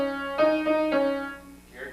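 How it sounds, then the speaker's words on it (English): Short piano phrase: three struck notes at an even, moderate pulse, each with a sustained harmonic tone, followed by a brief soft trailing sound, close and clear with no talking. "Now I'm going to play rhythm patterns on the piano."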